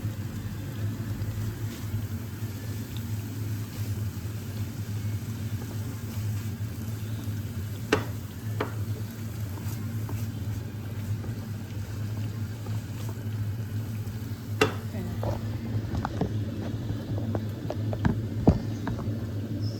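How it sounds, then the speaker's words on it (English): Egg stir fry being mixed in a hot pan for a Japanese rice meal gives a steady low sizzling hiss throughout, with a few sharp utensil scrapes and clinks near the end. "So let me just quickly mix my stir fry so the egg is also cooked properly."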